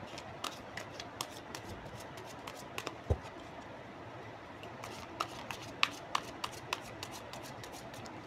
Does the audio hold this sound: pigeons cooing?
no